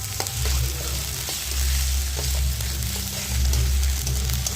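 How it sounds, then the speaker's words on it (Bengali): Garlic, onion and ginger frying in hot oil in a pan, a dense steady sizzle with a low rumbling undertone, close and continuous, with no talking. "ভালো করে ভাজা ভাজা হবে। দিয়ে দেবো 1 চামচে আদা,"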